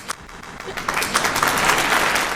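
A studio audience applauds to welcome Big Brother Titans guest Tsatsii onto an interview show, the clapping swelling into a dense, steady wash of sound.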